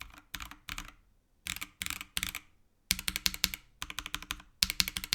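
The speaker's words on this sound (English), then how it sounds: "here's a comparison against the lubed and filmed Dojicon," Mechanical keyboard keys, lubed and filmed, clack in quick bursts of typing separated by short pauses. The key presses are crisp and close, with no voices.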